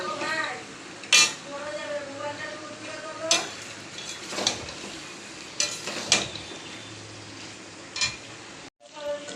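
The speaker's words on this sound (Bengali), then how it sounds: "দেখো মাংসটা দিয়ে দিয়েছি, দিয়ে এবার ভালো করে কষিয়ে নেব" Chicken pieces sautéed in a pan, with a soft sizzle under repeated scraping and clinking strokes of a spatula against the metal, and a voice talking quietly now and then.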